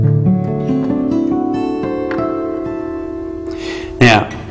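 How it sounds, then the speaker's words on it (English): Acoustic guitar picks three open-string notes that ring together, then switches to a bright, bell-like harmonic near the end; close, solo playing with no talk. "by playing the first three notes open, then switching to the harmonic"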